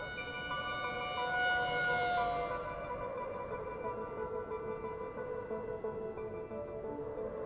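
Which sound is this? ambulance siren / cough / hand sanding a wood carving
ambulance siren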